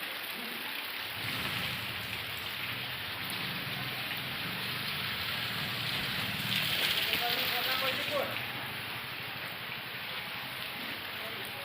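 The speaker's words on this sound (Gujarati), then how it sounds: "ગામડામાં તો બહુ જ વરસાદ છે" Heavy rain pours down in a village, a dense steady roar of drops on surfaces heard up close, with a voice speaking over it.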